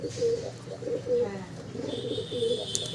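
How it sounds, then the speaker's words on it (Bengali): A female pigeon coos in repeated soft, low phrases close by, with a few brief chirps and faint background murmur between the calls. "এটা একটা মাদি পায়রা"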